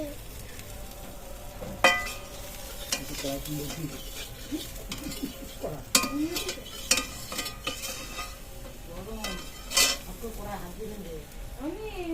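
Pumpkin and leafy greens frying in a pan with fish head for a Bengali dish, steady sizzle under repeated scraping and clinking of a spatula stirring, close and busy throughout.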